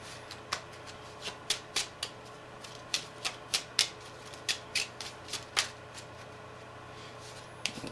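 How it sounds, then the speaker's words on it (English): Playing cards are shuffled and riffled by hand during a card trick, a series of sharp crisp flutters and snaps spaced irregularly over a quiet background, close and without talk. "now this is a real, shuffling here"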